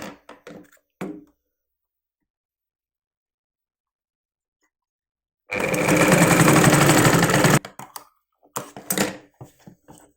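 A sewing machine stitches a saree blouse in one sustained burst of about two seconds, a loud rapid whirring rattle set between quiet stretches, with brief handling noises and short bits of talk before and after.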